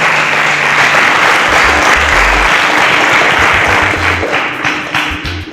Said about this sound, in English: A round of applause for our contestants.